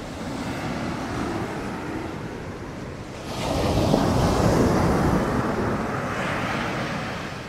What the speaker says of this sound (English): let's have a look at Kata Beach today